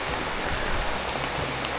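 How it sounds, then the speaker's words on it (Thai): Heavy rain falling over a Lao village where a house is under construction, a steady broadband hiss close to the microphone with no pauses, no voices present. "บรรยากาศภายในหมู่บ้านก็คือฝนตกหนักแฮงเนาะ"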